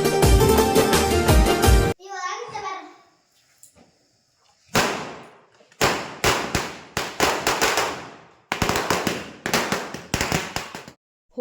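Several sharp Diwali firecracker bursts crackle in rapid clusters, loud and close, after a brief stretch of music and a quiet pause.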